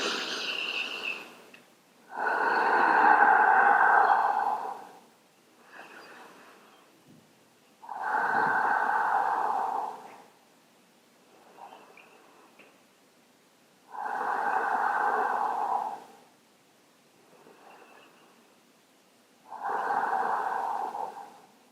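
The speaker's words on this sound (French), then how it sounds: "Faites 5 respirations complètes." Slow, deep breaths in a yoga child's pose during a Hatha session: five long, loud exhalations through the nose and mouth, each lasting a few seconds, with softer inhalations between them, close and unaccompanied.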